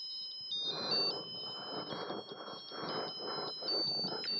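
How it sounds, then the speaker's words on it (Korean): A homemade pop-up Christmas card with a sound circuit playing a carol as thin electronic beeping tones, steady and close, over a louder rhythmic rustling noise, with no talk. "캐롤 소리가 이렇게 나고 있고 삼색 LED가 이 안에서 반짝이고 있습니다."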